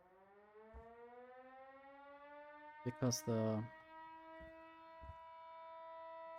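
A rising, wailing civil-defense-style siren from the game Schedule I holds a steady tone throughout, with someone briefly talking over it partway through.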